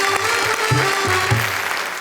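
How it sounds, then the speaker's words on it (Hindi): An audience at a kavi sammelan poetry gathering breaks into steady, dense applause that fills the hall, with a low tonal hum from the sound system beneath it. "हम जोरदार तालियों से एक बार इनका स्वागत करें और कहें वाह वाह क्या बात है।"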